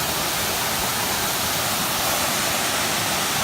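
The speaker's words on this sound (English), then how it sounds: "It's like double waterfall." Two side-by-side waterfalls pour with a steady, loud, broadband rush of falling water, close and continuous with no break and no voices over it.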